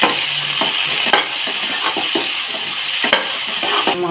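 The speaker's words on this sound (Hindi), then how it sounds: "टमाटर और हरी मिर्चा को भी मैंने डाल दिया है। इसको खूब अच्छे तरीके से रोस्ट कर लेंगे।" Tomatoes and green chillies roast in a hot pan for vermicelli upma, with a steady sizzle and frying hiss throughout and several sharp scrapes of a stirring spoon against the pan, close and loud.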